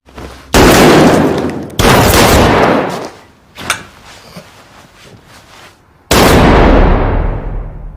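Three loud, close gunshot blasts ring out in a film scene, each with a long decaying echo, separated by quieter stretches with a few smaller knocks.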